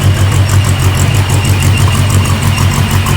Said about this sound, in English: the blower noise in this thing is nuts